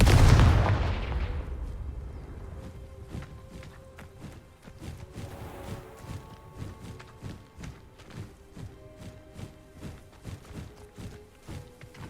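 A Confringo fire spell from Hogwarts Legacy opens with a loud, booming blast that fades, then a string of regular thuds and crackles follows, like rapid footsteps or repeated impacts, at moderate volume.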